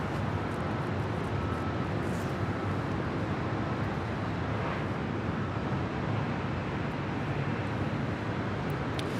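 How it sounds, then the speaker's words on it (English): A Delta Airlines Boeing 737-900ER arrives at Los Angeles International Airport, its broad, steady jet roar holding loud and continuous throughout with no voices over it. "This arrival is Delta Airlines 982, coming in from Minneapolis, St. Paul, on a 737-900 ER."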